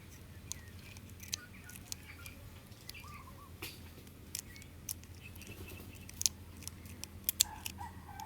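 Scissors cut into a ball python egg with small, crisp snips that come irregularly over a steady low background hiss, fairly faint and close, with no talk.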